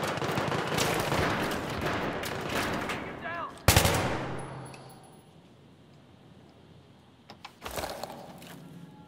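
Rapid automatic gunfire in Battlefield 3 on the Scrapmetal map, a loud burst of shots, then a sharp single crack, a quieter lull, and a short final burst, with brief voices in between.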